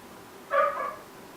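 A dog outdoors lets out a single short bark, slightly distant and moderate in volume, against a quiet room background.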